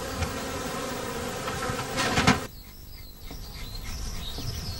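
Honeybees buzz in a steady drone around their beehives outdoors. The swarm swells louder just past two seconds, then drops to a softer, thinner hum. No one speaks.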